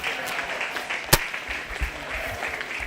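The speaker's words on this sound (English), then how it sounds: "So let's give these two gals a round of applause," Spectators at a 4-H/FFA sheep and little lambs show give a round of applause for two young exhibitors. The clapping is moderate and steady, with one sharp crack partway through.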